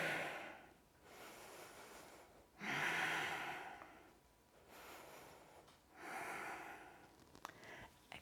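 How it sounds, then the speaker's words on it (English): Slow, audible breaths during a yoga warrior one pose, about four long rushing inhale-exhale cycles, close and soft, with no talking. "Breathing with warrior one."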